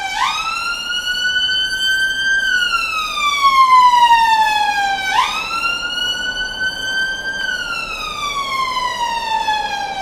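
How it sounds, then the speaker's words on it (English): An emergency vehicle siren wails outside, sweeping slowly up and down in a steady repeating cycle, clear and moderately loud over a quiet background. "Fucking sirens."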